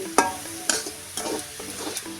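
Kalai saag greens stir-fry in a pan, with spatula scrapes and stirs landing about every half second over a soft, steady sizzle, close and alone without voices.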